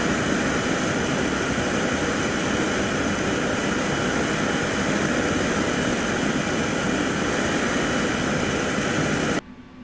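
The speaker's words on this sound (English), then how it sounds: "Now I like to use this larger wheel here for polishing the sides and the outside of the ring." A larger polishing wheel spins steadily against the sides and outside of a silver zig-zag ring made from half-round wire, a loud, continuous broadband whir close by that cuts off abruptly at the end.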